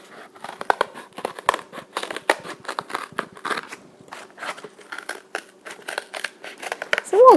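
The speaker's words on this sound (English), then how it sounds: "So we'll cut out both of our circles here for cardboard." Scissors snipping through cardboard and paper circles for a homemade hand drum craft, a close series of crisp irregular cuts with crinkling paper rustle in between, quiet apart from the cutting.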